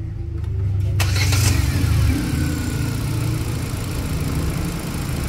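A Hyundai Accent with an abnormal oil pump supply cranks and catches, a sharp whir and burst giving way to a loud steady idle that settles into an even rumble, close by.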